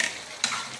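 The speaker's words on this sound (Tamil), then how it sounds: "இப்போது கொதிக்குது இல்லையா" Chicken masala simmering and bubbling in a pan during home cooking, with oil separating out: a steady soft hiss and sizzle, plus one brief clatter midway.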